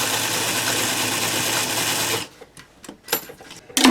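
Sewing machine stitching a straight seam on a dollar store hair band, a loud steady whirring run that stops abruptly, followed by quiet handling clicks and rustles.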